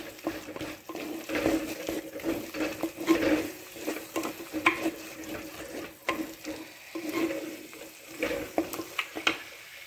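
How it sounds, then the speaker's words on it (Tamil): Homemade masala powder is stirred into curry leaves and okra frying in a pan, producing an irregular scraping and stirring sound over a soft sizzle, with uneven bursts of activity throughout. "இதை சேர்த்து நல்லா இது கூட நல்லா மிக்ஸ் பண்ணிக்கிறேன்."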